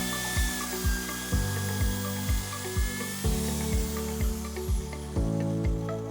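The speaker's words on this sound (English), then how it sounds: "Identify the mounting location and drill a hole in the duct." Drill boring a hole in a metal air duct to mount a Daikin home air monitor, heard as repeated short whirring bursts in a steady rhythm, close and moderately loud.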